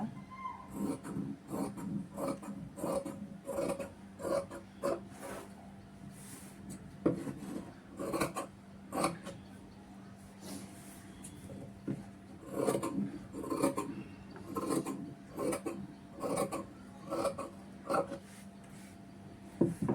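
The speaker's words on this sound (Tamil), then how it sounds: "நம்ம பட்டியை நம்ம கட் பண்ணி எடுத்துட்டேன்" A strip of blouse fabric being cut with tailoring scissors, repeated crisp snips and rasping rubs of blades through cloth in an irregular rhythm, close and fairly clear with occasional pauses.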